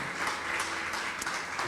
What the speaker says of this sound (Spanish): quiero dar un aplauso para la pastora